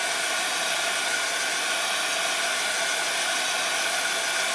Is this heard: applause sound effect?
no